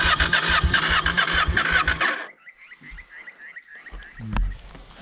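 A KTM 790 motorcycle engine cranks and sputters loudly for about two seconds, then cuts out, followed by faint clicks and a brief rumble.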